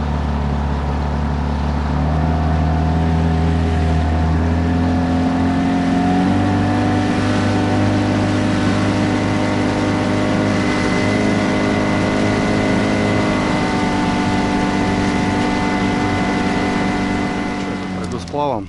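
A Gladiator 9.9 outboard boat motor runs steadily on a river during its first start and break-in, a loud droning engine note whose pitch rises slightly after a few seconds and then holds.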